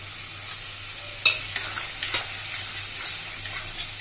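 Ground cumin, coriander, turmeric and garam masala fry together in a pan, making a soft continuous sizzle with a few sharp stirring clicks and scrapes, close and without talk.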